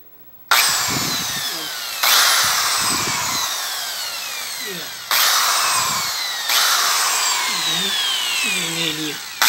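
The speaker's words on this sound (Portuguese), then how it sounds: "Foi com a furadeira." A power drill whirs in several bursts against a TV, spinning up and cutting off, with brief low speech murmurs between runs.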